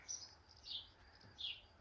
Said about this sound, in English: the birds are back out singing away in the trees over there